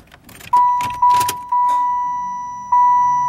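A failing pump on a Chevrolet Impala gives a sustained steady electric whine, switching on in several abrupt bursts after a few clicks and a jangle of keys, fairly close inside the car.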